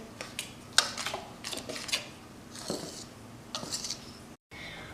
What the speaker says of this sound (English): you're just going to quickly stir it until it's all combined